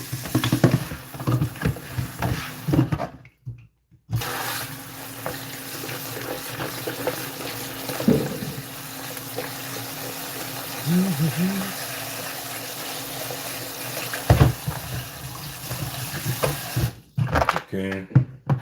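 Raspberries and blueberries being washed under running tap water, a continuous splashing stream with brief pauses and a few clunks of handling, recorded close.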